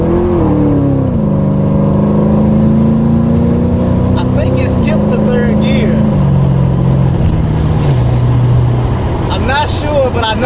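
An LS V8-swapped Mazda RX-8 accelerates hard, its loud engine roar rising and falling through gear changes from inside the cabin, with a voice speaking over it near the middle and end.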